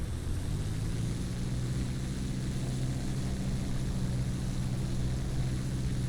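An Edge 540 aerobatic plane hovers in strong crosswinds in Flight Simulator 2024, its engine and propeller making a steady, loud, close drone mixed with wind noise and a slight rise in pitch early on.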